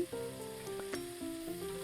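Peas sizzle and fry in hot oil in a kadai, a steady crackling hiss broken by a few light stirring knocks.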